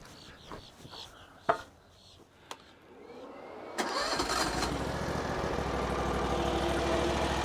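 A Chinese skid steer's engine cranks and catches after a few clicks and knocks, then runs at a steady loud idle with a dense, buzzy rattle from a loose fan plate throughout.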